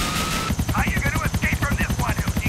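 A police helicopter hovering overhead in the video game GTA 4, its close, rhythmic rotor thumps beating steadily while a person talks over it.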